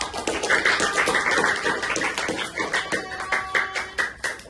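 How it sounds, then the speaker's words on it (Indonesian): Sixth-grade students in a classroom clap in a rhythmic, fairly steady series of claps, moderately close, with light background voices. "Oke, tepuk tangan untuk"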